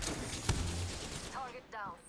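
A short, sharp burst of gunfire in a video game rings out early, followed by a voice talking over faint background game noise.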